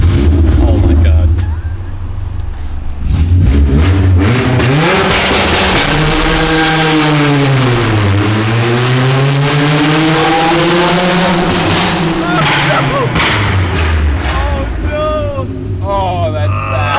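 A 60hp Honda Civic engine revs hard while drifting, its pitch rising and falling in long sweeping arcs with a brief drop near the start, loud and close, with people talking over it.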